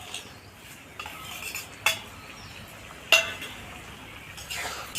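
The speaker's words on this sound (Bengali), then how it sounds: "এবার আমি দিয়ে দেবো ওই ভেজে রাখা বড়ি আর ভেজে রাখা বেগুন আর টমেটো।" Fried bori, eggplant and tomato go into a pan of cooking vegetables, a few sharp metallic clinks of a spoon against the pot over a faint steady sizzle, spaced irregularly and close.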